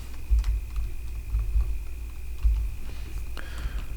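A name typed on a computer keyboard while laying out a funeral program in Canva, a short burst of soft, close key taps over a low background hum, with no talking.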